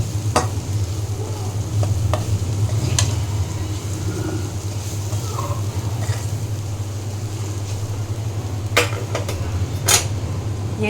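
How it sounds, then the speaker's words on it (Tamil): Grated raw mango stirred into chicken pickle in hot oil, with a steady low sizzle and occasional sharp scrapes and clinks of the spoon against the pan, close and continuous with no talking. "போட்டு நல்லா ஸ்டேர் பண்ணிக்கலாங்க."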